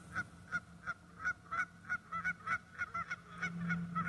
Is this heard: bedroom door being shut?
no